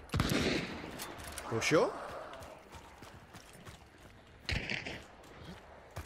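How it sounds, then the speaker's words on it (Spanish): Winfield rifle gunfire in the video game Hunt: Showdown, a few sharp distant-to-mid shots spread across the stretch, mixed with footsteps and game noise, under a brief spoken question. "Ah, una Winfield disparando para acá."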